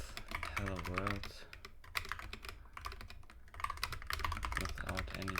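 Rapid typing on a computer keyboard while entering a hello world program in a C++ file, a steady stream of close, crisp key clicks with a few brief pauses and no talking.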